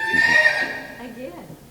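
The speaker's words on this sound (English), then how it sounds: "that was the horse" A horse neighs loudly at an outdoor horse show, a sustained whinny mixed with a person talking over it and background crowd noise.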